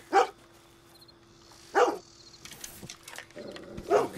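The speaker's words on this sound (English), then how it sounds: "It's a puppy! It's an Australian Shepherd." An Australian Shepherd puppy in Red Dead Redemption 2 gives three sharp, close barks spaced about two seconds apart over a faint steady background tone.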